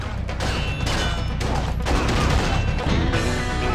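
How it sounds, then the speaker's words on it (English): Gunfire in the Red Steel 2 video game comes as dense, loud rapid bursts of shots and impacts, almost continuous, with brief gaps between volleys. "he'll also shoot bullets in your face"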